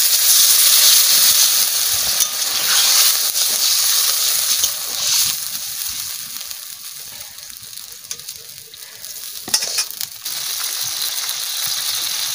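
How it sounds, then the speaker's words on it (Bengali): Loud, steady hiss of water hitting a hot pan of sizzling fish masala, bright and close, easing slightly toward the end with a brief clatter near the close. "জল দিয়ে দিচ্ছি।"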